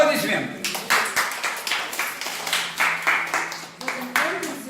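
Audience at a cat-drawing contest award ceremony in a St. Petersburg hotel claps for a winner, a lively run of applause in repeated swelling waves, with a voice speaking over it.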